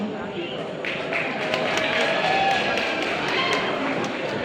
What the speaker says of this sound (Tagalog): Bakit hindi niyo po sabay-sabay palakpakan at hiyawan ang nag-iisang Loisa Antario?